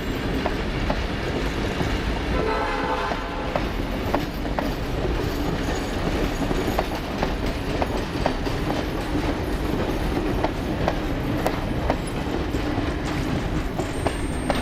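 Lachlan Valley Railway locomotive 4204, in maroon livery and running in New South Wales, rolls past loudly with rhythmic clickety-clack wheel beats over a steady rumble and occasional faint wheel squeals. No talking.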